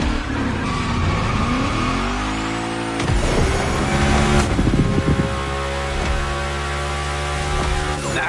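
A car sliding through a gymkhana run revs hard and continuously, engine pitch rising and falling with shifts, tire squeal and skidding mixed in, loud and close with no talk.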